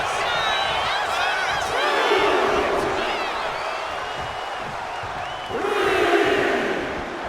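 A wrestling arena crowd in WWE 2K25 cheering and whooping, a dense roaring wash with scattered shouts that swells again near the end, no one talking over it.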